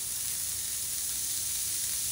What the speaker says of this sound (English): They're sizzling, so that's a good sign